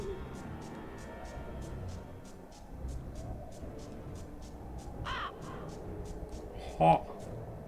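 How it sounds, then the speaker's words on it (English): A crow cawing in the PS1 Harry Potter 2 game, two short harsh calls a couple of seconds apart over steady game background with someone talking. "Caw, caw, caw. Totally not how a crow sounds."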